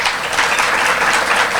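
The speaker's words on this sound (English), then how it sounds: "Let's give him a round of applause, please." Applause from an audience at a Pasco Chamber of Commerce non-profit showcase, a dense, steady wash of many hands clapping at once, loud and close throughout the short burst.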